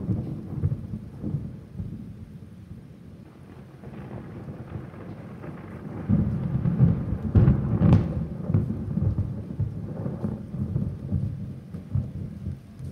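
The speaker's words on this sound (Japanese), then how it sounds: "どんどん雨も雷も激しくなりました。" Heavy rain pours steadily with deep rolling thunder rumbling through, the storm growing louder and more intense partway through; no voices.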